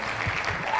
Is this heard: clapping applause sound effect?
yes